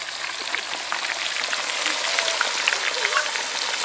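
Oil sizzles in a pan while fish curry cooks in a village setting, a steady hissing crackle with faint patter, close and moderately quiet, no talk over it.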